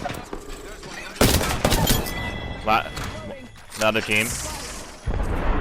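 Bursts of gunfire and grenade blasts from an Apex Legends battle ring out loudly in clustered volleys with sharp thumps, under a player's excited talk.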